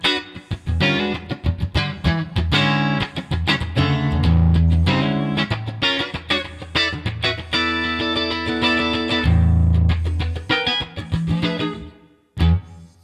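Electric guitar played through a Flint reverb pedal, with strummed chords and single notes ringing out in a washy reverb tail, loud and up close, pausing briefly near the end with no talking.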